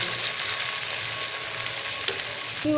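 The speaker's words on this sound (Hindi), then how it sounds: "ये हमारे टमाटर हो रहे हैं, साटे हो रहे हैं।" Tomatoes and onions frying in an earthenware pot for biryani, giving a steady, close sizzle throughout with a brief stir or clink near the end and no talking.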